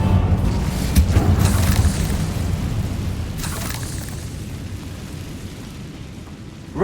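In the Hogwarts Legacy video game, the Incendio fire spell is cast with a deep whooshing boom, a sustained roaring burst that slowly fades over several seconds.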